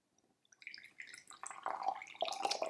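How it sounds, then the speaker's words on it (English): Jasmine tea poured from a teapot, a soft trickle and drip of liquid that starts faint and builds, close and quiet, with no talk. "Okay, let's go ahead and pour out the tea."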